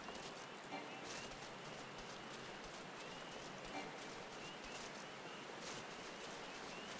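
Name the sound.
rain in the Shroud, from video game Final Fantasy XIV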